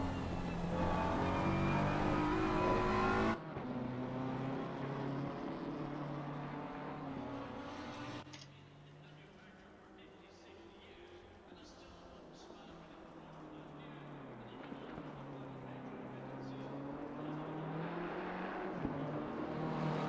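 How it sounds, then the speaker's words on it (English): A Lamborghini GT3 race car in a racing video game at Imola roars past on the straight, its engine note rising then falling as it blows by, with other cars droning underneath. "And then the Lambo will blow by on the straight."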